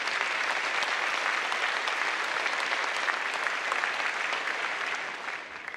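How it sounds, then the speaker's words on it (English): Sustained applause from a large audience at a 2016 afternoon college commencement ceremony, dense clapping that holds steady and then fades slightly toward the end. "Let's give them a round of applause for their dedication to our class."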